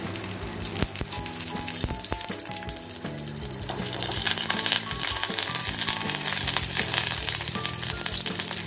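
Hilsa fish paturi parcels wrapped in taro leaves are set one by one into hot oil, and the frying hiss swells louder midway and holds steady beneath background music.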